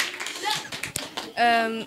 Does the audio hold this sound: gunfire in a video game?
no